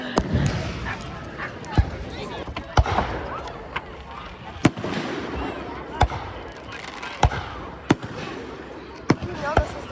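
Small fireworks burst outdoors near a lake playground, sharp loud pops and bangs going off one after another at irregular intervals while people talk nearby and a dog may bark.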